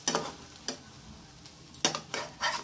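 Bread and egg fry gently in a pan over a low flame, a soft quiet sizzle punctuated by several spatula scrapes and taps as pieces are turned.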